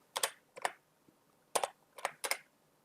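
Five short bursts of key clicks as a number is typed on a laptop keyboard, crisp and close with brief pauses between groups, no voices.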